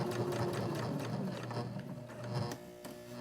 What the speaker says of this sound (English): I'm going to go forward, back stitch a little bit again, and go right back over that seam one more time